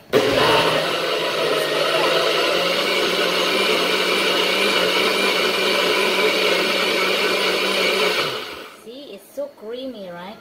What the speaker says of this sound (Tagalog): And then put it in the blender for like...